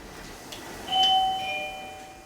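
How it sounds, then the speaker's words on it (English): A doorbell rings once with a clear two-tone chime, the tones lingering briefly before fading against a quiet background. "here's the doorbell."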